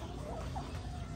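Brood cock rooster clucking with a few short calls over a steady low hum, fairly close and continuous for about a second.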